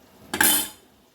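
A lid is set down onto a pot of cabbage and moong dal curry on the stove, giving a single close, bright metallic clank with a short ringing tail.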